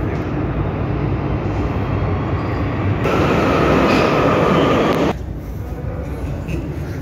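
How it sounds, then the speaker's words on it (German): U-Bahn subway train pulling into a station platform, a loud, steady rumble and roar of wheels on rails that swells in the middle, then eases as the train slows, with no one speaking. "So Leute, U-Bahn kommt."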